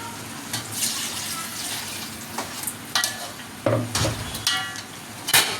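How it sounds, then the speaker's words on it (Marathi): Mutton curry fries in a pot as water is poured in, giving a steady sizzle with sudden louder hissing bursts and spattering, plus clinks of stirring, close and without speech. "आता मी ना याच्यात पाणी ॲड करते"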